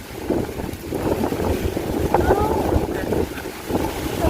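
Strong wind gusting outdoors beside mango trees under a dark sky, roaring and buffeting the microphone in uneven surges, with faint rustling and no clear speech.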